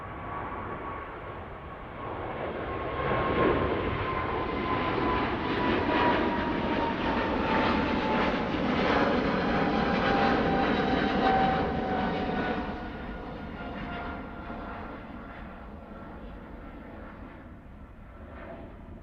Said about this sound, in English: 2 stonking 777 departures back to back